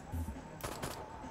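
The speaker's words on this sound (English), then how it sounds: "This is a green tube that shoots at somebody's ass." Anal probe weapon fired in the video game Destroy All Humans!, a short burst of sharp zapping blasts in the middle, fairly loud over steady game ambience.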